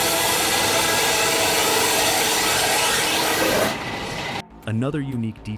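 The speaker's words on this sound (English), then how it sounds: "The mill has only one bandsaw, but it handles every task, from the main cut, trimming edges, to resawing." A single bandsaw in a water-powered sawmill rips through wood with a loud, dense, continuous rasping roar that drops abruptly near the end as the cut finishes, leaving quieter mill rumble and squeaks.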